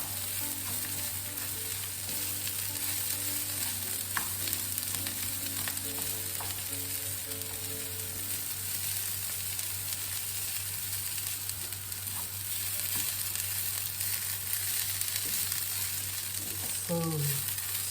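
Two cups of basmati rice toast in a pan with chorizo, onions, carrots, celery and seasonings, giving a steady, close sizzle with occasional scraping stirs for a long stretch. No one speaks.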